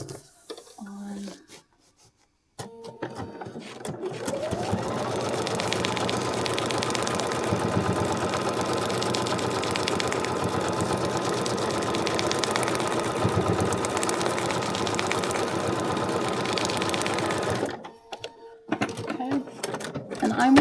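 Sewing machine running steadily for about fifteen seconds, stitching a foundation paper pieced fabric block, a continuous close mechanical whir that starts and stops abruptly, with brief handling noises before and after.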